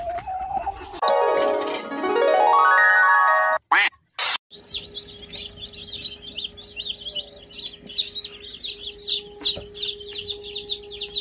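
After a brief synthetic whooshing intro, Rhode Island Red chickens in a backyard give off a continuous scatter of high, rapid peeping calls, moderately close and steady throughout.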